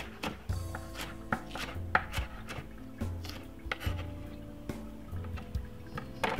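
A knife chops spring onion into strips on a cutting board for Jamaican roast fish, giving a steady run of sharp, close taps with no talking.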